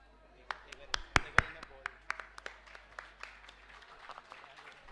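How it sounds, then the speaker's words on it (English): Audience applause in an auditorium at a higher-education event, a scattered burst of sharp individual claps that peaks early, then thins out and fades to a few isolated claps. "with a massive round of applause."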